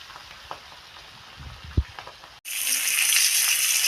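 A rohu fish head coated in salt and turmeric drops into hot oil. A quiet stretch with a few soft clinks and a thump gives way to a sudden loud, sustained sizzle.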